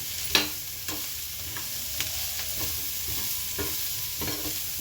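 Chopped cabbage fries steadily in a pan, a constant sizzle broken by about eight sharp scrapes and knocks as a spoon stirs it. No one speaks.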